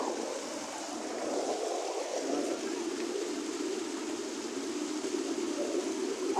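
Fast-flowing clean spring water gushing out of the ground in Quetta, a steady broadband rush heard close and continuous throughout, with no voices over it.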